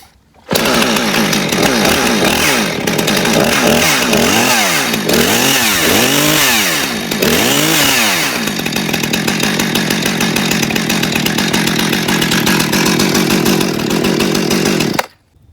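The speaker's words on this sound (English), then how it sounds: "some people like to actually start the chainsaw with the brake engaged" A Husqvarna Rancher 455 gasoline chainsaw sputters through several pull starts with rising and falling revs, then catches and idles steadily, loud and close, until it cuts off.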